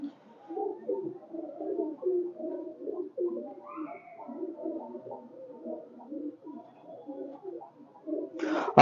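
A female pigeon coos close by in a quiet room, a continuous run of soft, throaty, rolling coos that rise and fall without pause.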